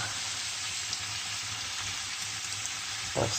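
Potatoes fry with pork fat as onion is added, a steady, even sizzle close by and fairly quiet, with a brief clatter at the end.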